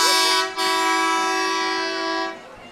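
A loud, steady train horn blasts at a Fourth of July parade in Hingham, with a short break near the start, then holds one sustained chord before cutting off.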